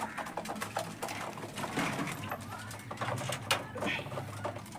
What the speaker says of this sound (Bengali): এবার পায়রাগুলোকে এখানে খাবার দিলাম